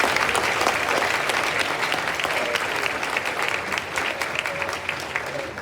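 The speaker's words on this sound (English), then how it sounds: "I ask for another round of applause for our amazing fifth graders" Applause for fifth graders at an elementary school Veterans Day program, a steady roomful of clapping from a large audience with faint crowd murmur underneath, sustained throughout.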